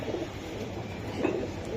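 Budapest pigeons of the grey-neck type at a busy pigeon market give a soft, brief coo that sits low in steady crowd and market noise.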